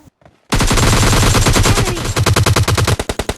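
Automatic weapon fire from the mobile battle royale game PUBG Mobile Lite bursts in loud and close after a short quiet lead-in, a rapid sustained volley that breaks into distinct spaced shots toward the end.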